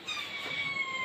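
A white cat gives a single drawn-out meow close by, a short plaintive cry at moderate volume.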